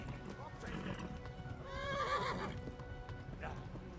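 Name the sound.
horse neighing and hooves, video game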